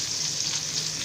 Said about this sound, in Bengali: আমার পেঁয়াজটা বাদামি করে ভাজা হয়ে গিয়েছে।